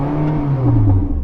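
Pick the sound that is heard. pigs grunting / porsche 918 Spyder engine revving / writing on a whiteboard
porsche 918 Spyder engine revving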